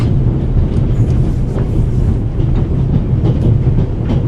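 A moving train in The Raven Remastered video game rumbles steadily, a loud continuous rolling roar with faint clicks of the wheels on the rails, and no talk over it.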